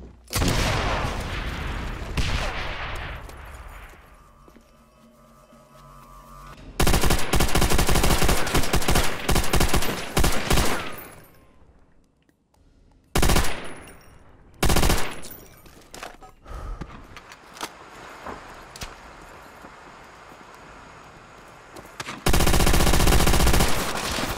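Thompson submachine gun in Call of Duty: World at War rattles out loud, close bursts of automatic fire, split by quieter gaps and a brief silence, with other gunfire and game sounds around them.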